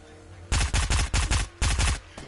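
SMG gunfire in Fortnite: several rapid, loud bursts of automatic shots, each lasting a fraction of a second, split by short pauses, close and with no talk over them.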